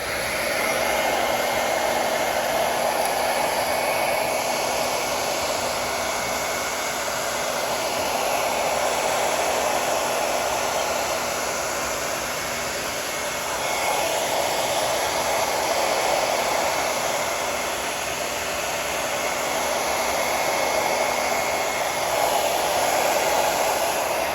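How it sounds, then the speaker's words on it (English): A hair dryer on the cold setting blows continuously at close range while drying hair during a barber's taper cut, a steady loud whoosh with slight swells as it moves, no voices. "Then we're gonna take our comb and our blow dryer."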